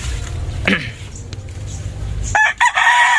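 A blue hatch gamefowl rooster crows loud and close in two bursts, one brief early call and a fuller crow near the end, with low rumbling background noise and some talking.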